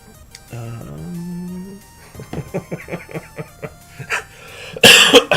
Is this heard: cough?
yes